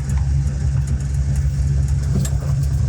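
An older car's engine runs steadily after an alternator mount repair, giving a smooth, even low purr at close range with no words spoken.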